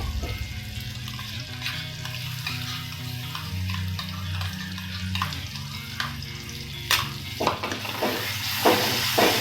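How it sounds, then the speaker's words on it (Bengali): Paneer masala cooks with beaten curd in a pan, a steady close sizzle under a low background hum, broken by scraping stir strokes and a few sharper utensil knocks toward the end. "আমি দইটা দেওয়ার পর 10 থেকে 15 মিনিট আমি কষলাম"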